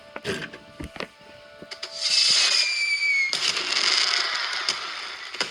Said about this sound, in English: Thomas waited in the castle station and watched the fireworks.